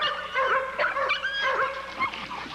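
A playful kennel dog named Gator whimpers and yips repeatedly at close range, the thin, wavering cries rising and falling over a couple of seconds with no speech.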